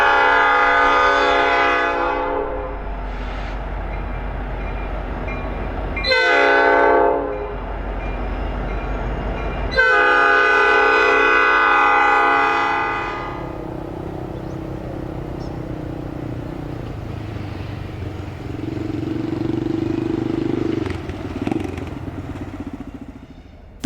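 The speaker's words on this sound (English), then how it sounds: "A pair of icy SD70s lead A408 into town." Two ice-covered EMD SD70 diesel locomotives lead a BNSF freight train into Centralia, sounding loud multi-tone horn blasts in several bursts over heavy engine rumble, then a steady roll of passing railcars with squeals and clanks.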